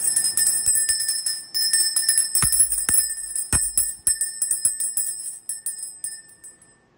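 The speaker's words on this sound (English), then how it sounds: "We're gonna ring the bell," A bell is struck repeatedly in an irregular rhythm, with bright metallic ringing tones that linger and slowly fade, heard alone without talk.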